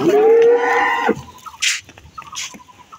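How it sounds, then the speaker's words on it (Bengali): A large cow at a rural cattle market gives one loud, close moo lasting about a second, followed by softer background animal and crowd noises. "কি এটা বিশাল বিগ সাইজের গরু"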